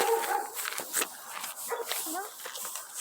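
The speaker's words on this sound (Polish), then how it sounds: "O kurde, pies." A dog barking and whimpering outdoors during a walk, short yips and barks scattered over about three seconds amid people talking nearby.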